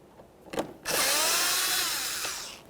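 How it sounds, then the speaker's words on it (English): Power drill whirring as it backs a Phillips head screw out of the grille on a 2003-2007 Honda Accord front bumper cover, following a couple of light knocks, running steadily for about two seconds close up. "Remove our Phillips head screw"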